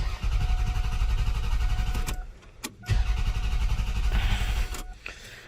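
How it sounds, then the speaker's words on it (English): A 1995 Toyota Avalon engine cranks over on the starter after fuel injector O-ring work, a loud rhythmic churning in two bursts separated by a short pause, close by without talk. "I'm gonna go ahead and repeat the process of cranking it one more time"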